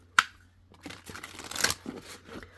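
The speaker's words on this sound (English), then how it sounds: "let's go ahead, shuffle one more time" An oracle card deck of 68 cards being shuffled by hand, a sharp snap followed by soft riffling and sliding card sounds in quiet, close surroundings.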